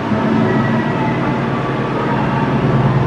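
A high-speed train pulls into KCIC Padalarang station, a constant loud rumble and rolling hum filling the whole stretch with no break or pause.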